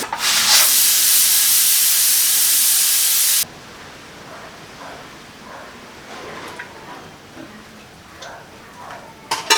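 A pressure cooker jets steam in a loud, steady hiss for about three and a half seconds before it stops abruptly, leaving quiet kitchen sounds and faint clicks.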